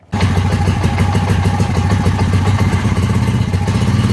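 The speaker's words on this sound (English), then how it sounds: "now that we started our ATV, let it run for a little bit" A Honda Rancher 350 ATV engine idles steadily after an oil change, a loud, close, continuous mechanical putter with a light clattery rhythm and no voices.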